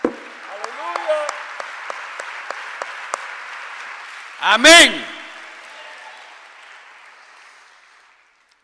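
A church congregation clapping for the Lord in a steady, evenly spaced rhythm, the claps light and somewhat distant, while a voice rings out over them and trails off in a reverberant hall.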